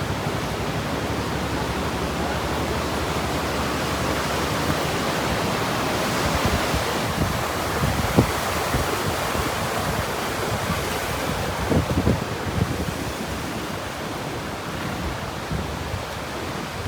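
A river in Old Manali runs high after floods, making a steady, close, full rushing roar of water, with some wind in the microphone and no talking.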